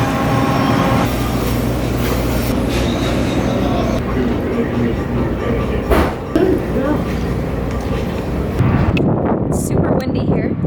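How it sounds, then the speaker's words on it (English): Strong gusts buffet the microphone outdoors near a Subway restaurant on a travel day to Winnipeg, producing a constant loud rumbling roar with brief dips and surges. "It's super windy here."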